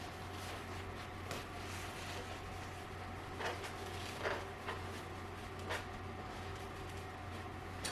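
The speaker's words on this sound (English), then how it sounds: "So we're going to go ahead and put this on the machine and start sewing." An embroidery machine stitches a design on glitter heat transfer vinyl with a steady, continuous mechanical whir and hum, with faint periodic clicks and no talking.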